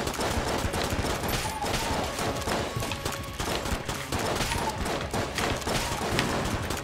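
Rapid, dense gunfire from the Enter the Gungeon video game with the shadow bullets upgrade, each shot doubled by a second trailing bullet, a continuous rattling barrage that holds steady and loud without pause.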